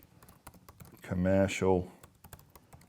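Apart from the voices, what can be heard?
typing on a computer keyboard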